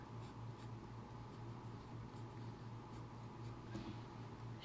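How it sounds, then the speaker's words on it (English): A broad-nib fountain pen filled with Herbin ink scratches across paper in a faint, steady, continuous rasp, with no talking. "I don't know how it's going to write on this paper"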